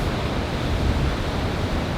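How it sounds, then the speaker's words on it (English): Caribbean surf rolls onto the shore near a beach campsite in Puerto Rico, a steady broadband rush of breaking waves with a low rumble, mixed with some wind noise and no voices. "enjoy the vibes of the waves"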